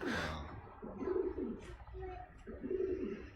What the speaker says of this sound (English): Look at this. You just got a pigeon.